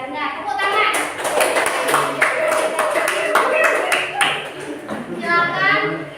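Elementary school pupils in a social studies class clap their hands together in a quick, lively burst of near, bright claps alongside a teacher's voice and children talking.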